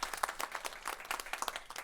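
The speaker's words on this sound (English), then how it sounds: "a big applause for Carmen and Electrolux" An audience applauds after a corporate customer case presentation, steady dense clapping at moderate volume throughout, fairly close, with no talk over it.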